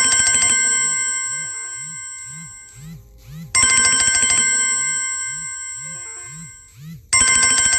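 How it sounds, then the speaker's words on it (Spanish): WhatsApp call ringtone plays loud and alone, a bright repeating melodic phrase with bouncing low tones that restarts twice and is cut off after about seven seconds. "¡WhatsApp! ¡Tumbo la llamada!"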